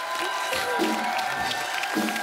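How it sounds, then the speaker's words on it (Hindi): A studio audience on The Kapil Sharma Show applauds with a steady, dense wash of clapping and some crowd noise, at moderate volume. "एक बार निहार के लिए जोरदार तालियां हो जाए।"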